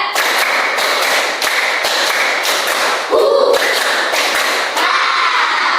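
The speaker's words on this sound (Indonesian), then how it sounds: "tepuk tangan untuk kita semua" A group clapping hands together in a school classroom during a teacher's lesson, a dense steady patter of many hands that runs close and loud for several seconds, with a brief louder burst near the middle.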